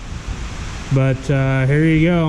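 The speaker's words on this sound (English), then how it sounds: "the sky just let loose outside. It is pouring." Heavy rain pours outside, a dense steady roar heard throughout, with someone speaking briefly over it near the end.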